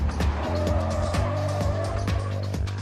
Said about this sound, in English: This causes the rear wheels of the suspect to lose traction, resulting in a spin-out